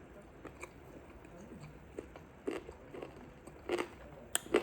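Crunchy food chewed close to the mic, with soft repeated crunches growing louder and sharper toward the end over a quiet background.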